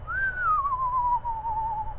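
A screech owl at Cleveland Metroparks in winter gives a clear, whistle-like whinny: a single sustained tone that rises briefly, then slides gradually downward over about two seconds, heard alone with no talking.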